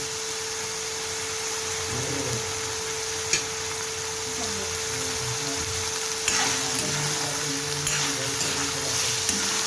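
Vegetables for pav bhaji fry steadily in oil with an even sizzle and soft hiss throughout. Occasional faint stirring ticks sound close, with no talk over it.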